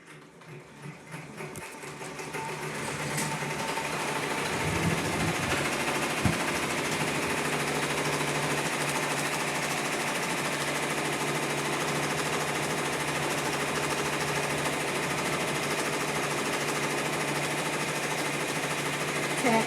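Embroidery machine sewing an appliqué tack-down stitch on a shirt, ramping up over the first few seconds into a fast, steady, rattling needle chatter that continues unbroken and close.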